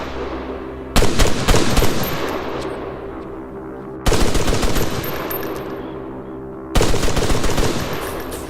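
Automatic weapon fire from the ArmA 3 military shooter game, heard as three loud, sustained bursts of rapid shots with brief quiet gaps between them and no talking.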